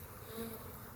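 Honey bees crawl over a hive frame, a faint, steady buzzing hum close by with a brief higher drone standing out.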